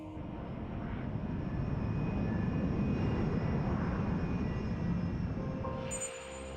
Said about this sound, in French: l'avion s'approche de la ville